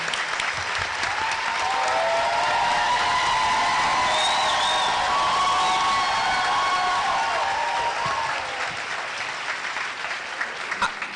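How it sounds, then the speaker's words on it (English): A large audience at a school board gathering applauds in a sustained, even roar of clapping, with faint whistles and a few voices mixed in, gradually thinning toward the end. "I didn't get that kind of applause"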